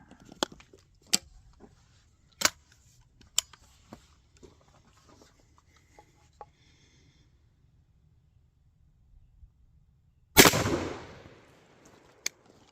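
A single shot from an RIA single-shot 12 gauge shotgun loaded with 7.5 shot and fired through a full choke at 15 yards, one loud sharp blast late in the clip after several quiet clicks and handling noises.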